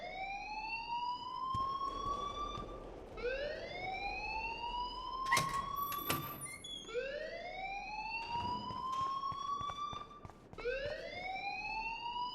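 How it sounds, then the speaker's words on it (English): A siren-like alarm wails in the video game Life is Strange, repeated rising tones sweeping upward about every three seconds, loud and steady, with a few sharp clicks between sweeps and no talk. "please turn off that alarm since that's your job"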